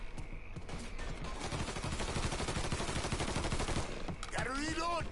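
Gunshots in Mafia 3, a dense sustained volley of rapid automatic fire filling most of the clip at steady loudness, ending in a shouted voice near the close.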